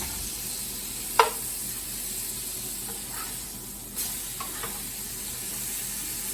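Two steaks sizzle steadily in an absurdly massive pan, a close, continuous hiss of frying with a sharp clack near the start and a few softer scrapes and bumps later.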